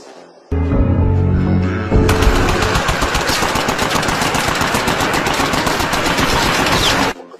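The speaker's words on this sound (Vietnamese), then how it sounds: "Anh ta cầm súng tiểu lên." Submachine gun fire from the film Run Hide Fight erupts after a low rumble, then rattles in a loud, continuous rapid burst for about five seconds before cutting off abruptly.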